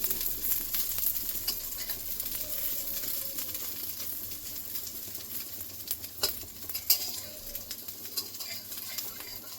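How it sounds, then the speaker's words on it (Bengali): Small pieces of egg omelette frying in a pan give a soft, continuous sizzle with occasional light scraping and clinks of a utensil, heard close and fairly quiet throughout. "সবগুলো এরকম করে ভেজে নেব।"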